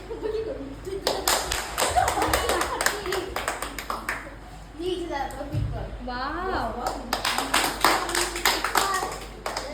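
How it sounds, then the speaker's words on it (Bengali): A small group, children among them, claps loudly for a girl named Ishita during an indoor class, bursts of sharp hand claps between stretches of talk and chuckles. "ঈশিতার জন্য জোরে হাততালি"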